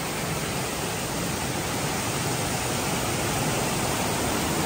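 Tad Sae waterfall near Luang Prabang pours in a steady, dense roar of rushing water, loud and unbroken throughout with no voices.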